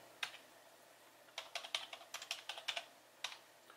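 Keyboard keys clicking as a long Wi-Fi password is typed, with quiet, close, uneven bursts of keystrokes and a brief pause between runs.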